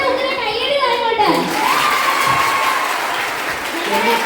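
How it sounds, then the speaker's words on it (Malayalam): Students at SN women's college in Kollam applauding, a dense clapping wash with crowd noise and shouts, while a voice carries a melodic line over the top and a whistle-like tone rises partway through. "നല്ല ഉത്തരം കയ്യടി വാങ്ങോട്ടെ."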